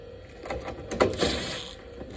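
Screws being driven into the front panel of an Amana PTAC air conditioner unit during a rebuild, a short burst of close mechanical ratcheting and clicking clatter.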